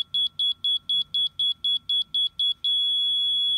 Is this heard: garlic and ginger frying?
no